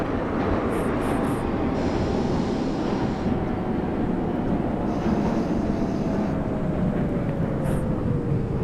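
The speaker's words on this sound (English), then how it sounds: "This is a Brooklyn-bound C local train." An R32 subway train on the C local line runs in the OpenBVE train simulator game, giving a continuous loud rumbling roar of wheels and motors with a slowly falling whine and faint high squeals, steady throughout.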